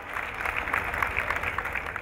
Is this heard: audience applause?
yes